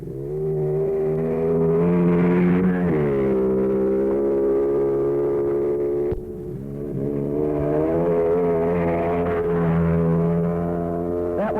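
A 250 Jawa motorcycle racing up a 1965 New Zealand hillclimb, its engine droning and revving loudly and continuously, pitch rising and falling through gear changes with a brief break midway.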